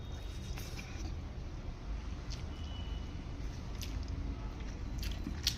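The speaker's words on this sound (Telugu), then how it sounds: "చాలా ఎర్లీగా తింటున్నా." Close, moist chewing and biting of prawn and broad bean curry, soft squishy mouth sounds repeating steadily, with faint background rumble and a few light clicks.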